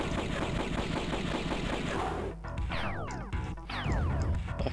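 Rapid, evenly spaced gunfire from the video game Phantom 2040 rattles along loudly for about two seconds. Descending laser-like zaps and more bursts follow, with no talking.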